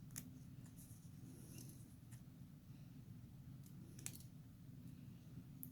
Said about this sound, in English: that's where I'm going to trim my paper